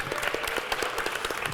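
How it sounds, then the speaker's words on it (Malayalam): A studio audience on a comedy music game show claps for the second-place contestant pair, giving a dense, steady burst of applause with no speech. "നല്ലൊരു കൈയടി കൊടുക്കാം."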